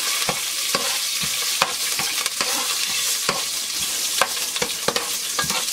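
Chopped green chillies sizzle in hot oil in a pan, a loud steady frying hiss broken by a dozen or so sharp scrapes of a spoon against the pan, close and without talk.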